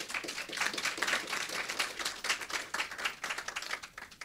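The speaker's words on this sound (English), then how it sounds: "Give her a round of applause." Audience applause at a Jamaica Customs stakeholder consultation: a dense, continuous patter of many hands clapping, soft and somewhat distant, with no voices over it.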